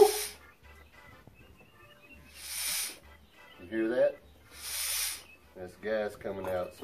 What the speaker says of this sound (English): Gas coming out, so we're going to turn this gas on a little bit